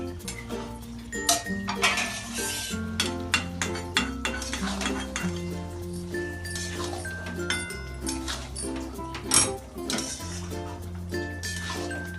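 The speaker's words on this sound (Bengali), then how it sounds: "নাড়িয়ে দেবো আমি এখন চিকেনটা।" A utensil scrapes and clinks against a cooking pot as chicken is stirred for homemade biryani, irregular metallic knocks over a prominent background music track.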